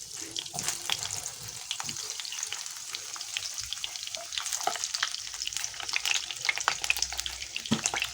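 Stuffed mango parcels fry in oil over a low to medium flame, a crackling, spitting sizzle with many small pops throughout, close and moderately quiet, with no talking.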